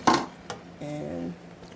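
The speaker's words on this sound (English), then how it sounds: "The pot moving around." A pot shifts on the stove while peach pie filling is stirred, giving one sharp knock followed by a softer bump and a brief scraping rumble, close by.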